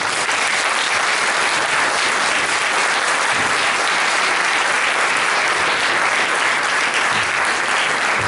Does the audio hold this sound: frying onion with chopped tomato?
no